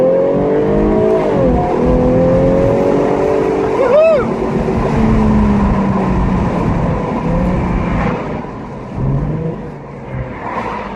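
Jaguar F-Type 340 convertible from 2016 growling on the move, a loud continuous engine drone with rising and falling revs and a sharp blip partway through, with someone talking over it.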